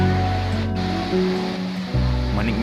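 Steady roar of a cold mountain waterfall at Suhom in the Lhong forest of Aceh Besar, a dense continuous rush of falling water, loud and close with slight shifts in its low rumble.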